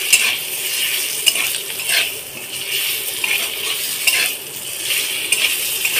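Chicken for a chicken soup, lightly fried with a little salt in a pan, making a loud, dense hiss of frying with a slow swell and fade as it is stirred, plus a few faint metallic clinks.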